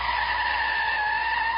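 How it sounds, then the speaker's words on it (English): Car brakes locking with a long, steady tire squeal and skid, loud and close, holding one sustained screeching tone throughout with no voices. "Whoa, hit the brakes."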